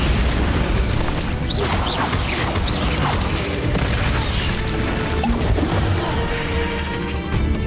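Bombarda spell explosions in Hogwarts Legacy, loud repeated crashing booms and smashing bursts layered over a dense, continuous roar of battle, with no speech.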